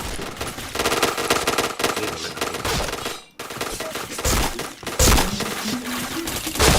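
Rapid automatic gunfire and sharp cracking shots from the online shooter game Point Blank, firing in loud dense bursts with a brief gap near the middle, heavy and close throughout.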